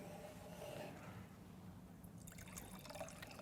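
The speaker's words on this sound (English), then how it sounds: "now I have the challenge of trying to pour a glass of wine from the decanter" Red wine pours from a glass decanter into a glass, a soft, faint liquid trickle and splash heard close by with no talking.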